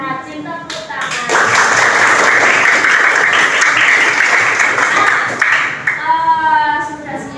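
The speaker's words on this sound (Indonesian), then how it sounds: "kelas 7B berarti kelas yang rajin tepuk tangan" A class of seventh-grade students in scout uniforms claps together in a school classroom, a dense, loud burst of hand-clapping lasting several seconds, with a teacher's voice speaking before and after it.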